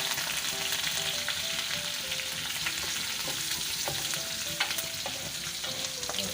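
Cumin seeds and green chillies fry in hot oil for dal, giving a steady, close hiss with crackles and faint stirring scrapes throughout.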